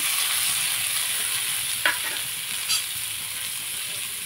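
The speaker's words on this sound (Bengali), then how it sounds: "টমেটো কুচিটা দিয়েও ভালো করে একটু ভেজে নেব।" Chopped tomatoes frying with onion, ginger and garlic in a pan for a chicken snack: a constant bright sizzle with a couple of soft stirring scrapes, close and steady, no voices.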